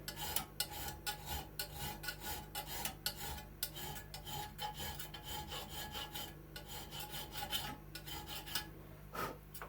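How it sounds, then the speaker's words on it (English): A file rasping back and forth across a metal sword guard, flattening it in rapid, uneven strokes with short pauses, close and alone with no voices. "And that gets filed down flat."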